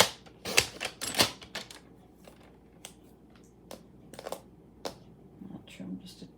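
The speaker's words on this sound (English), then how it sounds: "I'm just going to do the paper trimmer." A paper trimmer slices through black cardstock in a few sharp, close cuts early on, followed by quieter scattered clicks and handling noise, with soft speech in the background.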